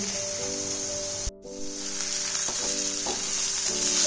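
Cabbage and spices sautéing in a pan for a vegetarian Bengali cabbage curry: a steady, close sizzle of frying with a faint electric hum beneath, a brief drop near the start, then occasional soft stirring taps.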